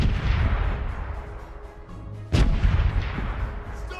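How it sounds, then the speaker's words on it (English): Broadside of ship cannons fires in the Corsairs Legacy pirate video game, a loud booming blast near the middle followed by rumbling echoes over a steady background of sea and wind. "Starboard is ready to fire!"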